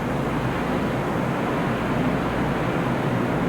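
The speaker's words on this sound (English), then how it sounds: "I want to take a picture of this waterfall because it's quite large and you can actually hear it." A large waterfall in Glacier Bay, Alaska, gives off a loud, steady, unbroken roar of rushing water that holds constant from start to finish with no other sounds standing out.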